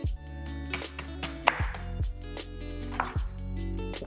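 A knife cuts through the end of a fresh corn cob, with several sharp, close chopping knocks against a board spaced about half a second apart, each ringing briefly.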